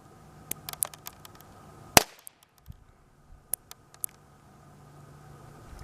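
A 2mm pinfire revolver fires a single sharp, loud crack at a half-and-half cream target, standing out above a few faint clicks and light background noise.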